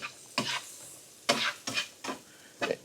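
Diced onion cooking in a pan until translucent, with a few separate scraping, stirring strokes and soft sizzling bursts spaced irregularly, quiet and close.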